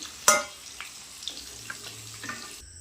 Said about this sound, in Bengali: আলুটাকে ভেজে নেব এবার আলুগুলো তুলে নিচ্ছি